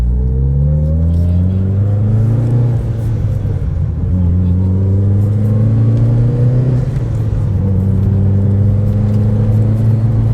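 A modified Mitsubishi Lancer Evolution VIII MR making around 500 wheel horsepower revs loudly up close, its engine note climbing and falling several times in a continuous throaty roar.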